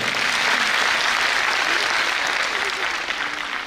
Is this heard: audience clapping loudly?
yes